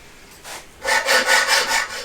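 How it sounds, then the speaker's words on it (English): A hand saw cuts through a metal bicycle frame tube in a gravel bike build, a brief stroke followed by four steady, rhythmic rasping strokes, close and fairly loud with no talk. "so I amputate it with a saw as much as possible first"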